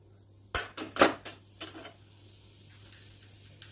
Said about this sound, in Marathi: 1 चमचा मोहरी छान तडतडली आहे